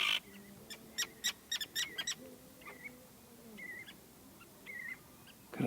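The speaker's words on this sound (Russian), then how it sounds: "Чайки летают." Seagulls call in short, faint cries off in the open air at a countryside recreation base near Yakutsk, several squawks coming in bursts over light background noise.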